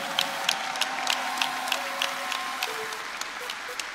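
A church congregation applauds with scattered cheers, sustained clapping filling the space, with a few sharper claps standing out and a faint tone lingering underneath.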